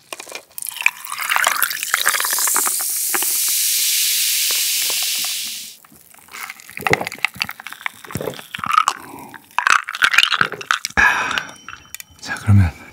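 A can snaps open and a drink fizzes with a steady hiss for a few seconds, then comes close gulping and soft clinks.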